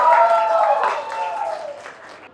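Applause from guests at a Mehendi and Haldi wedding ceremony right after a song, a brief burst of clapping that starts fairly loud and fades away within a couple of seconds, with some voices mixed in.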